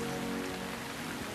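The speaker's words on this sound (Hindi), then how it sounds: "बारिश हो रही है" Rain falls in a brief, steady wash of hiss, fairly close and unbroken, with a low tonal hum running underneath.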